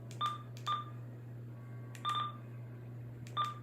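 Short key beeps from a Yaesu FTA-850L air band transceiver, four crisp electronic bleeps in irregular spacing over a steady low hum, close and clear with no voice.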